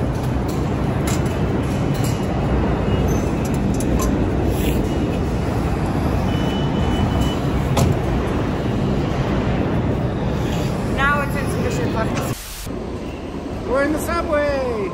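A loud, continuous rumble and roar of a train moving through an underground station, with squealing metallic tones near the end.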